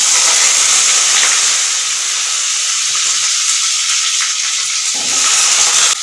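Potatoes fry in oil with bay leaves in a kadai, giving a loud, close, continuous hiss and sizzle that barely varies for the whole stretch.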